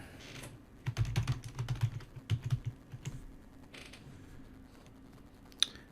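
Rapid typing on a computer keyboard, a quick run of close clicking keystrokes in uneven bursts that thins out, ending with a single sharp click.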